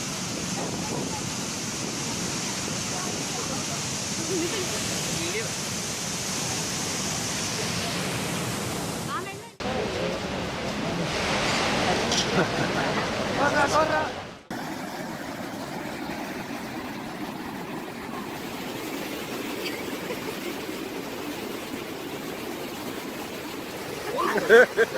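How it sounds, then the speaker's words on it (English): Steady, dense rushing of a South Indian waterfall swollen by heavy rain roars throughout, with abrupt shifts in intensity partway through as the torrent surges and settles. "Excessive downpour of rain in South India resulted in a massively wild waterfall."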